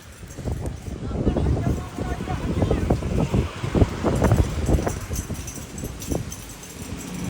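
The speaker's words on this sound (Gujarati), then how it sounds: "બહાર બહુ જ પવન છે." Strong wind gusting outdoors during a severe storm, blustering steadily with rumbling buffeting against the microphone, while a person talks over it throughout.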